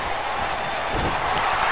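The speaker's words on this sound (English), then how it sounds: "And Tony's got the crowd rallying behind him." A live wrestling crowd at a Royal Rumble event cheers and rallies behind a wrestler, a steady, distant roar of many voices without a clear peak.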